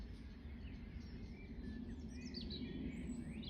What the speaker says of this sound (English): don't know if you can hear the birds.